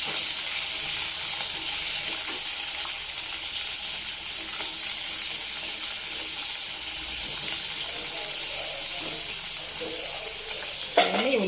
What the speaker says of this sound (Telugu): తర్వాత అండి వేయించుకున్నాక ఉల్లిపాయలు వేసుకున్నాం